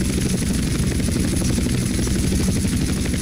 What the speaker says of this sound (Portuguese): Agora a gente vai inclinar o helicóptero para cima e acelerar